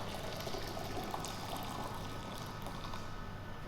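Boiling water poured from a kettle onto a conduction demonstration setup, a steady continuous wash of splashing liquid at moderate level with no gaps, close by and without speech.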